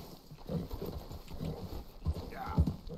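Horse hooves clip-clop in the Red Dead Redemption 2 video game, a quiet, uneven run of soft thuds heard under a person talking.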